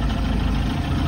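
A Mercruiser Alpha One Gen 1 boat engine idles steadily while being run in a test bucket, a dense continuous low rumble with a faint knocking texture, close and loud throughout with no talk.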